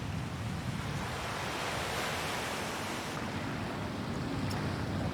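Calm sea waves wash along the Tongyeong coast in South Korea, a steady broad rush of surf mixed with wind buffeting the microphone, with no voices.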